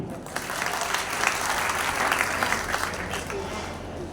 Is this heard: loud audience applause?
yes